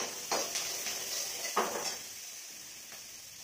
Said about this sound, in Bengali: কচি শাকটা সেদ্ধ শাকটা একদম সেদ্ধ হয়ে গেছে, এটাকে শুধু তেলে এখন নাড়াচাড়া দেবো